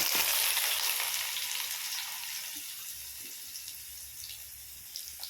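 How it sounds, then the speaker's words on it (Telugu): Three small chopped onions drop into hot oil and sizzle loudly, then the hiss settles to a steadier, gradually fading fry with faint stirring clicks close by. "దీంట్లో ఆనియన్స్ 3 ఆనియన్స్ కట్ చేసుకున్నాం. ఇలా చిన్న చిన్న ముక్కలు అవి ఇలా వేసుకోవాలి."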